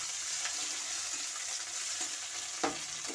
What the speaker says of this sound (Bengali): পেঁয়াজ দিয়ে আমি পেঁয়াজটাকে ভালো করে ভেজে নিচ্ছি।